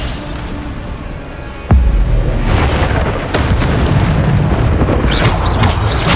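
A deep boom hits suddenly about a third of the way in, then a dense, loud roar of blasts and crackling debris rolls on to the end, the Bombarda explosion spell going off in the Hogwarts Legacy video game.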